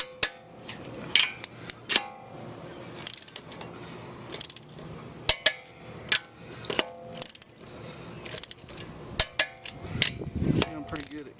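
A torque wrench tightening the wheel nuts on a Honda Odyssey in a star pattern, close, sharp bursts of ratcheting clicks separated by pauses, with louder metallic clunks as each nut seats.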